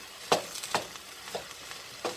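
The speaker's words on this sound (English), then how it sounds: "I'm going to actually saute this again." Arroz con gandules (pigeon pea rice) ingredients being stirred and sautéed in a pan, with soft sizzling and a few distinct scraping stirs at an unhurried pace, close and fairly quiet.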